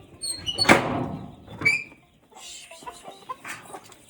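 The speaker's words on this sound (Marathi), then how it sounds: "आता हे कोंबड्या वरडल्या." Hens in a backyard coop squawk and cluck in a few sharp, close bursts, with a rattling, door-like knock among them and a quieter stretch afterward.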